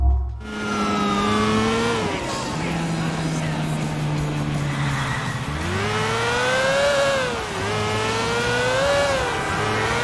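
Motorcycle engine in GTA IV, revving continuously with rising and falling pitch as the bike accelerates and shifts, loud and close throughout with a faint voice underneath.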